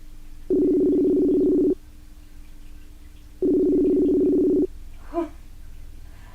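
A phone ringback tone sounds twice on a call, each a steady buzzing purr about a second long with a pause between, followed by a brief soft blip.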